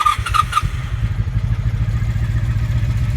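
A 1983 Honda V45 Sabre VF750S motorcycle engine cranks with a few sharp clattering bursts, then settles into a low, loud, throbbing idle close by.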